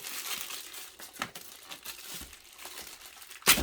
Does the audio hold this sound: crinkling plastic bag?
yes